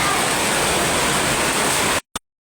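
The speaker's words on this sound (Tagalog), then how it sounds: "Lakas ng ulan." Heavy rain pouring down on a flooded, muddy road, a dense loud steady hiss that cuts off abruptly near the end.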